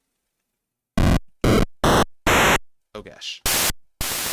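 Chiptune noise-channel static fires in short harsh bursts of hiss, about seven in a row with brief gaps, each burst abrupt and loud, and a person briefly exclaims between them.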